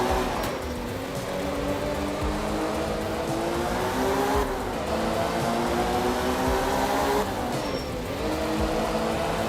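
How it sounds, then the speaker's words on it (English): A rally car engine in Art of Rally holds full throttle, a loud steady high-revving drone with rising and falling pitch sweeps as gears shift, tire noise underneath, no talking. "I'm literally full throttle right now."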